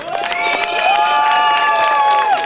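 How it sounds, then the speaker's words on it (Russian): An outdoor festival crowd at a lezginka dance contest cheers and applauds for the fourth pair, a dense burst of shouting and clapping with high-pitched voices ringing over the top. "Четвертая пара, аплодисменты!"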